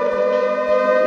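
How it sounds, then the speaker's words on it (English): Siren Head, the monster in a horror video game, lets out its siren call: a sustained, loud, harmonic wail that holds steady on one pitch for about a second, with no other sound. "That is Siren Head."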